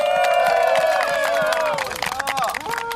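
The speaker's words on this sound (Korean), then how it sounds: "후배들의 환호가 성공적인 강하를 말해주는군요." Junior trainees cheer and whoop after a successful parachute jump at an air force survival training unit, loud excited outdoor voices over scattered clapping.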